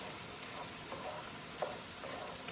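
Cabbage and carrots stir-frying in a pan for cauliflower fried rice give a steady, soft sizzle that runs evenly throughout, with a few faint scrapes of stirring.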